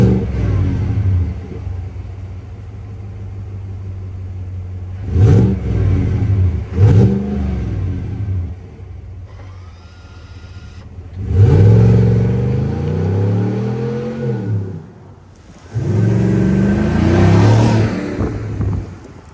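A 2024 Chevy Tahoe RST Performance Edition's 6.2-liter V8 is revved in several loud, close bursts that rise and fall, with quieter idle gaps between them.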